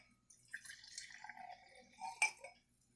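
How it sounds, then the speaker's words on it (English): Vinegar pours into a glass in short, faint trickles and drips, a thin liquid gurgle rising in pitch, ending with a clink near the end in a quiet room. "now we're going to add a half a cup of vinegar to the second glass"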